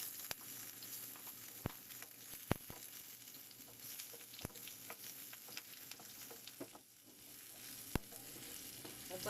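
Garlic frying in hot cooking oil, a continuous soft sizzle dotted with sharp spitting pops at irregular intervals, close and quiet, no talking.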